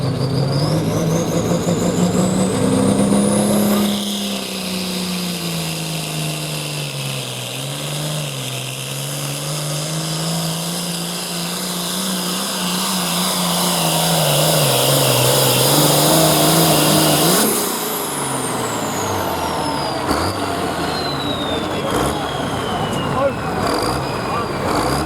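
A truck hauls a sled down the track at a truck and tractor pull, its engine bellowing loud and close, climbing in pitch and roaring steadily for about thirteen seconds before abruptly dropping away.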